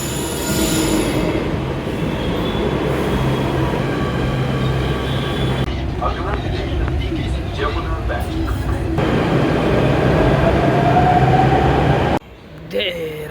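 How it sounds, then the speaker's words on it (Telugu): A metro train at RK Ashram Marg station in Delhi rumbles loudly and steadily, with rising wheel squeal near the end before a sudden drop, and voices faintly underneath. "ఇది ఆర్కే ఆశ్రమ్ మెట్రో స్టేషన్ అనమాట ఢిల్లీలో."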